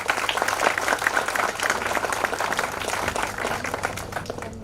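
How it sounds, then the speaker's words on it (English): Audience at a Cloud Community Days tech conference in Bhopal applauding speaker Sanchit, continuous mixed clapping from a sizable crowd, fairly even and sustained. "A big round of applause for Sanchit,"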